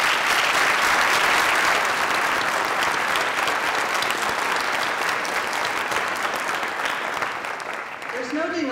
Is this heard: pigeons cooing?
no